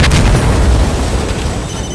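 C4 charge detonating in Insurgency Sandstorm co-op: a single loud, close, deep boom that rolls on with a low rumbling tail, with no talk.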